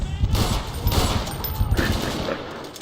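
Rapid gunfire from the online shooter Xshot Online, a short burst of crackling automatic shots loud and close, with faint talk underneath.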